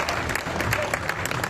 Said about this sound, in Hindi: जरा तालियों को घनीभूत करना मैं स्टार्ट होना चाहता हूं